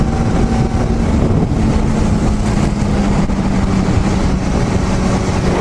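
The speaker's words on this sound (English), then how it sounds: "right now my bike feels terrible, especially at low RPM." A motorcycle engine running rough at low RPM, its throttle bodies out of sync, producing a loud, continuous low rumble that stays steady throughout with no talk over it.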